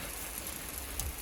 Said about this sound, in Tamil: திருப்பியும் மழை வந்துருச்சுங்க